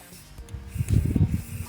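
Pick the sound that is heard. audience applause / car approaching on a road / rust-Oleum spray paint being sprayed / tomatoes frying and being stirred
rust-Oleum spray paint being sprayed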